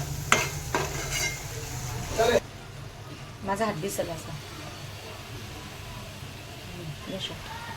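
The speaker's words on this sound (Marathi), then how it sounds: "मीठ टाकून छान मसाला परतून द्यायचा तेलामध्ये" Ground wet masala with curry leaves frying in oil for misal, a soft continuous sizzle with stirring scrapes, close and moderate, while someone talks over it.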